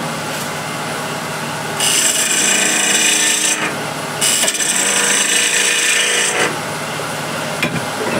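Waste wood being cut away on a lathe during woodturning, heard as a loud, steady hissing scrape from the tool on the spinning wood, coming in long passes over a constant motor hum, with no talking.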